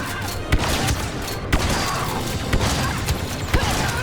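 Repeated shotgun blasts from a single-player first-person shooter game, several sharp booming shots spaced about a second apart over dense, busy game action and effects.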